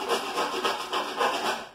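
Coarse sandpaper rubs rhythmically against PVC pipe as it is sanded and rounded, giving a steady, close scratching stroke roughly every quarter second with no speech.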